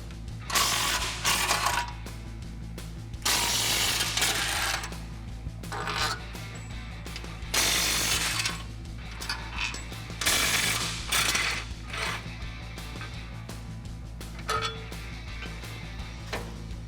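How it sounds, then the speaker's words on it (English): Ratchet wrench with an 18mm socket backing out rear bumper bolts on a Jeep Wrangler JK, giving repeated bursts of close, loud clicking and metallic rattling separated by short pauses, with no talk. "grab your 18mm socket and remove the bolts"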